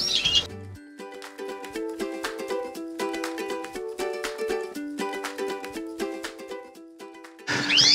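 A young Border canary sings indoors, a long run of rapid, clear tonal trills and repeated chirps at moderate loudness, with brief flapping or rustling at the start and end.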